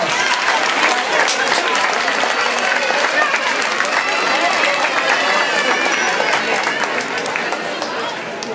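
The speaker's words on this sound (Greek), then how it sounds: "Ένα θερμό χειροκρότημα για τις γυναίκες του χωριού μας." A village audience at an evening folk festival applauds the local women warmly, steady dense clapping with crowd murmur running throughout without a break.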